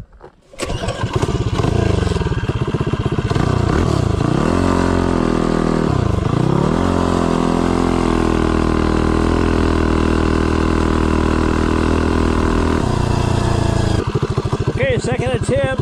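A Tillotson 225 small engine fitted with 1.2 ratio rockers accelerating from 0 to 30, loud and near, its revs climbing steadily with a couple of brief dips before settling into a sustained high whine and then easing off.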